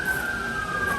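A fire engine siren wails steadily at a distance, its sustained tone holding over a low background rumble with no voices.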